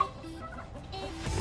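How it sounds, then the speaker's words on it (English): Chickens cluck softly nearby in short, low murmuring calls, with faint background noise and no talking. "Stuart, I'm hanging out with the chickens."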